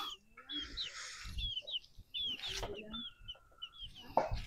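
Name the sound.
chicks clucking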